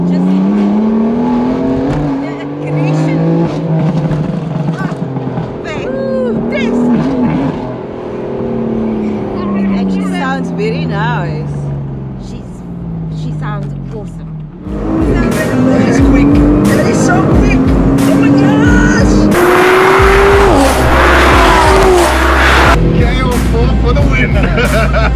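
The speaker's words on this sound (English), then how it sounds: "I love the sound of this car" A BMW M4 Convertible engine revs and accelerates up close, with loud rising and falling sweeps and a harsher burst near the end, while voices murmur in the background.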